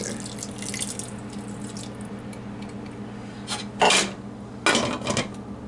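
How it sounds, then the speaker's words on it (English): Water pours from a tap into a cooking pot for jambalaya in two short bursts, each about a second long, over a steady low kitchen hum with no talking. "Maybe I should add some more water just in case."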